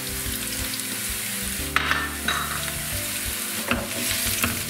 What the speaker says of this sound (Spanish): con la cebolla medio freír incorporo el diente de ajo partido